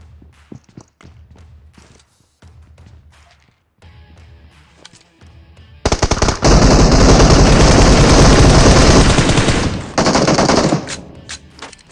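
Gunfire in the mobile battle royale game PUBG Mobile: scattered single shots and footsteps at first, then a loud, sustained burst of rapid automatic fire that cuts off near the end.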